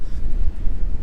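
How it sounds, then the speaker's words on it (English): Strong wind buffets the microphone on an exposed stretch of coastal sand dunes, a loud continuous low rumble with gusting surges throughout. "it is as windy as hell down here"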